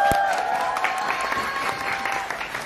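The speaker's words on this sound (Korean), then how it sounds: "박수 한번." An audience applauds throughout at a live drum concert, a dense, continuous roar of clapping hands with a faint sustained tone beneath it.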